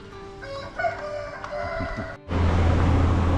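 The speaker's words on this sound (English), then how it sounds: "but very beautiful with the sounds of roosters." A rooster crows loudly nearby with drawn-out harmonic calls in a foggy mountain village in Sa Pa, Vietnam, then the sound cuts abruptly to a steady, louder noisy rumble.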